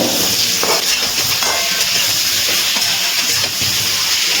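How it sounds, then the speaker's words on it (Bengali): Ridge gourd and potato fry in a pan over a medium gas flame, giving a steady, loud sizzling hiss with faint crackles throughout. "একটু ঢাকা দিয়ে ঝিঙেগুলো আমি ভেজে নিচ্ছি।"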